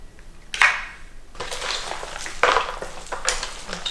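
Egg roll filling mixed with eggs being stirred in a bowl, a few scraping, wet swishes of moderate loudness in uneven strokes, close by and with no talking.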